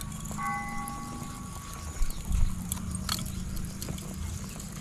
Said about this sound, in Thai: เราก็จะได้ยินเสียงเขาตีะระฆังนะคะ